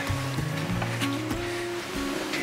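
A sailboat running at about 7 knots under sail with the engines off: a steady, full rush of water washing along the hull, with a low tonal hum beneath the surf-like wash.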